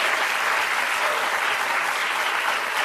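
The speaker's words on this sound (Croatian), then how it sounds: "ali ja ću se potruditi da opravdam ovaj njihov aplauz koji su uputili tebi" A studio audience at a televised evening talk show applauds the guest, a dense, even wash of clapping that holds steady from start to finish with no talk over it.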